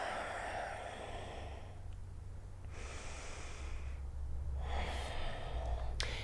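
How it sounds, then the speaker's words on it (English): Deep Ujjayi breathing during a yoga flow, slow audible breaths with a soft oceanic rasp, long inhales and exhales close to the microphone in a quiet room. "Deep Ujjayi breaths."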